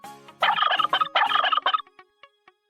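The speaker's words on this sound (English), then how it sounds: "This is a turkey." A turkey gobbles in a loud, rapid warbling burst lasting over a second, followed by a few faint trailing clucks, close and alone.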